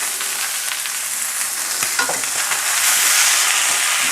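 Pot roast meat browning in a pan on a stove turned to its highest heat, a loud, steady sizzle and crackle close up with a few small pops, growing slightly louder toward the end.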